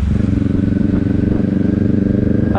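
A motorcycle engine idles as the rider comes to a stop, a steady, loud, close pulsing throb that holds an even rhythm throughout, with a brief clattering shift near the end.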